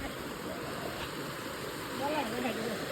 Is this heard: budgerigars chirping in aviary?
no